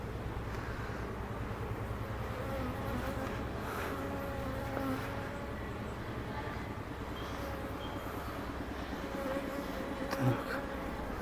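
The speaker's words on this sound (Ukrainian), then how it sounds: "Ну, тут якраз зараз гарно обльотується молодняк. Молода бджола зараз масово виходить." An apiary hums with masses of young bees making orientation flights, a dense, continuous buzzing drone close around, steady throughout with a faint voice now and then beneath it.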